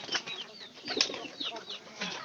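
A pigeon flaps its wings as it is let go, giving a quick run of soft, close wingbeats that flutter on and off for about two seconds.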